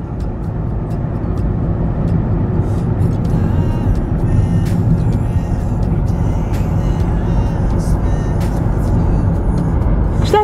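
Aircraft flying over a military air base, heard as a steady, loud broadband roar that holds without a break for the whole stretch.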